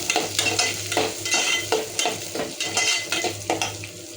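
Shallots sauté in a pan for Pallipalayam chicken, a steady close sizzle with a spoon stirring and scraping in a regular rhythm, and no one talking.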